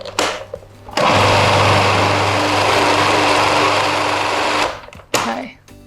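A blender whirs loudly for about four seconds, blending potato starch, lemon juice and cider vinegar, a steady dense motor roar that starts abruptly and cuts off, with short bursts of handling noise before and after.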